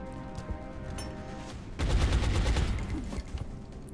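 A flashbang grenade goes off in the XCOM video game, a sudden loud broadband burst that swells and holds for about a second and a half before fading into rumbling game background noise.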